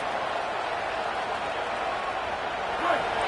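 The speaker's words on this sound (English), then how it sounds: "This crowd bringing the energy and noise early." Steady roar of a stadium crowd in a college football video game, dense and continuous throughout, with a slight swell near the end and a commentator's voice over it.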